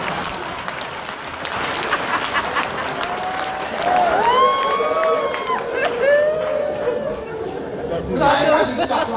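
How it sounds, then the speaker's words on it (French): A church congregation cheers and acclaims with clapping, chatter and raised voices, a dense crowd sound that swells midway with a loud sung or shouted voice above it. "c'est pour ça qu'ils acclament"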